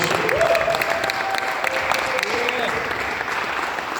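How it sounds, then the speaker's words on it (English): A hall audience gives the DJ a warm round of applause, dense clapping that starts strong and carries on steadily for several seconds with a bit of crowd noise and voices mixed in. "Let's give the DJ a great round of applause."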